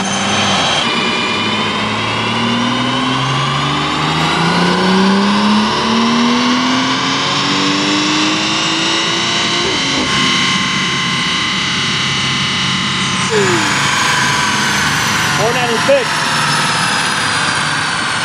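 A BMW 340i on a dyno with a 93-octane tune revs hard and continuously, its engine pitch climbing steadily through the gears with a brief shift dip, loud and close, with people talking faintly under it.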